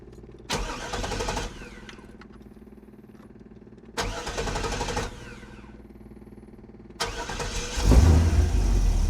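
A car engine cranking in three separate attempts, each a loud grinding burst, the last catching and revving up into a strong, close, steady run.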